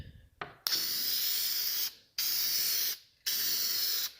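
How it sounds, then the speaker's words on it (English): Adhesive sprays onto the back of a speaker panel in three long hissing bursts separated by short pauses, close and steady, preceded by a brief softer sound and with no one speaking. "we'll take some adhesive around the edges so we can stick the cloth, stretch it"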